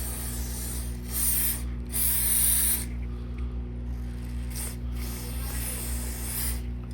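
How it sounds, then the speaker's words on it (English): Chain cleaner is sprayed onto a motorcycle chain in several short hissing bursts, with faint ratcheting clicks as the wheel is rotated, all over a steady low background hum. "Hit the chain with the cleaner in this section."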